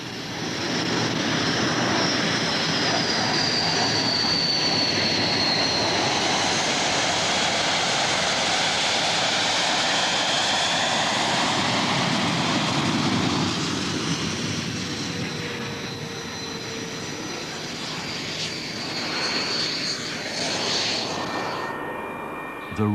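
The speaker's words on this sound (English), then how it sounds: "The intake guard is removed and the engine started." Hawk jet trainer engine starting up with its intake guard removed during test pilot training, a loud, steady, close roar with a thin high whine over it that eases slightly toward the end.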